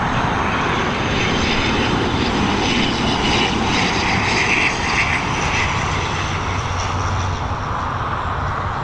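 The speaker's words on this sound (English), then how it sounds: "we've got his ATR 72-600 series aircraft" An ATR 72-600 turboprop at Dublin Airport gives a loud, continuous propeller and engine roar from nearby, steady for the whole stretch, with a faint whirring hum riding on top and no voices.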